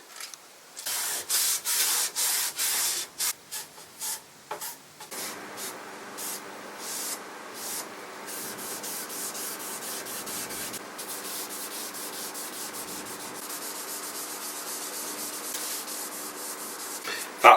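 Teak oil being rubbed by hand over a solid oak side table, with a few loud, hard strokes followed by a long, steady, softer rubbing that continues close to the listener.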